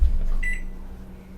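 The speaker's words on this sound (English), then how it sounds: "that is a microwave in the background" A microwave oven hums steadily in the background, a low constant drone with a faint brief tone rising above it, no talk present.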